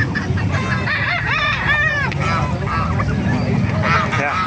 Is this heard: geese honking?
yes